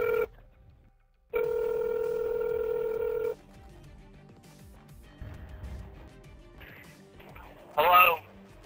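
A telephone tone during a prank call in Black Ops 2 holds steady for about two seconds, then quiet background noise follows before a short burst of higher-pitched beeps near the end.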